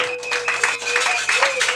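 A church congregation clapping in acclaim of the king, a brisk run of rhythmic handclaps over a sustained electronic keyboard tone, close and fairly loud.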